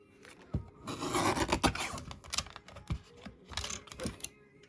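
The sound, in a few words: paper trimmer cutting cardstock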